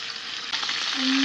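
Fish frying in a pan for ginataang isda (fish in coconut milk) sizzles loudly and steadily, a dense hiss of spattering oil that swells slightly midway, with no voices over it.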